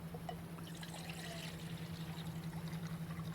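Water poured into a pot for dehydrated green beans at a woodland camp, a faint steady trickle over a low hum, brief and without talk.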